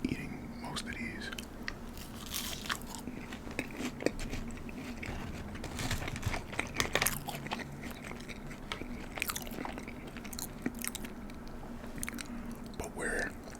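McDonald's fries being eaten close up, with repeated crisp bites and soft wet chewing in an irregular rhythm, a quiet voice murmuring in between.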